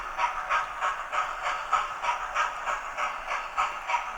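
Rhythmic chuffing puffs from the added sound unit of a model Tornado steam locomotive, evenly paced and fairly quiet, with a faint hiss between beats.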